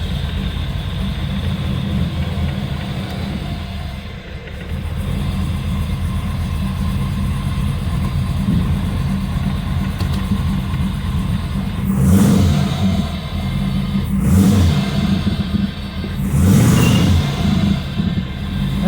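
LS3 V8 fitted with 317 heads and an 8707 LS1 cam, idling with a steady rough lope, then three sharp throttle blips rising and falling near the end, loud and close with no talk.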